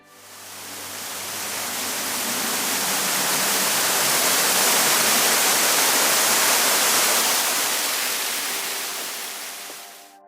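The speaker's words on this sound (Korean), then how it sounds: "대둔산 남쪽의 위봉폭포. 60m를 낙하는 2단의 물줄기는 이곳이 범상치 않은 곳임을 짐작케 한다." Wibong Falls, a 60 m two-tier waterfall south of Daedunsan, roars as a steady, dense rush of falling water that swells in and fades out, loud and continuous with no voices.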